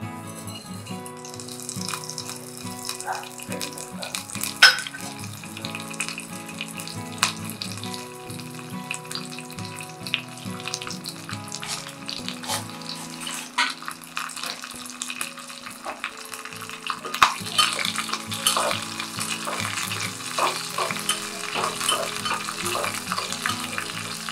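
Mustard seeds, curry leaves and green chillies crackle and sizzle steadily in about one and a half spoons of hot oil, a dense continuous frying hiss with scattered pops and a few clinks, no talking.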